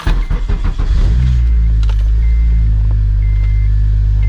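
An Acura TSX engine cranks and catches about a second in, then settles into a steady, loud, low idle rumble close by; no one speaks.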